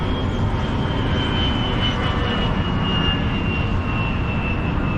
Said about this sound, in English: there's an airplane flying over.